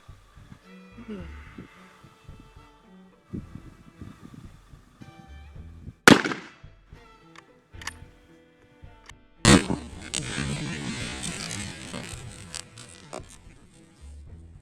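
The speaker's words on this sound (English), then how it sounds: "now we're gonna do a penetration test with the 1893 Mauser in 7mm Mauser" An 1893 Mauser rifle chambered in 7mm Mauser fires into ballistics gel, giving two sharp, loud reports several seconds apart among quieter handling noises and faint voices.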